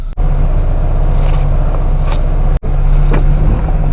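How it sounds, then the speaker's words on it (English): A Daihatsu microvan on aggressive tires drives along with a loud, steady rumble of road and tire noise and a couple of brief thumps, with no one speaking. "This van has some pretty aggressive tires on it, so it's going to be noisy."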